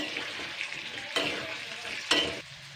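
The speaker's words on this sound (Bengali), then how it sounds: "এটা দিয়ে নুন আর হলুদটা দিয়ে আমি আবারও ভালো করে এবারে ফ্রাই করে নেব।" Potatoes frying in a pan with salt and turmeric, a steady close sizzle with two louder bursts of stirring scrapes, no voices.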